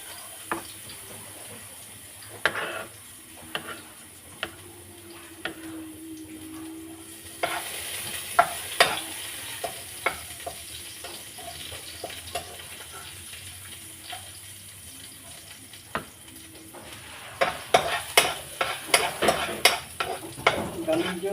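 Garlic sizzles in cooking oil in a pan, with a steady frying hiss. Sharp clinks from stirring come through close by, and water runs briefly from a tap.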